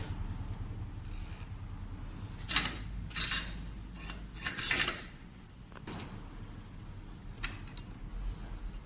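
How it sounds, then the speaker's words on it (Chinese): A special tool loosens an oil-immersed pressure cap, giving a handful of faint metallic creaks and clicks against a quiet background. "用专用工具拧松油浸压帽。"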